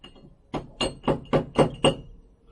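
Six sharp metallic hammer taps strike in a quick, even rhythm at close range, each one crisp and distinct.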